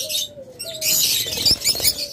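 Caged pet birds in a shop, mixed small species including budgies, lovebirds, cockatiels and doves, chirp in quick bright bursts with occasional flaps of wings, close and lively.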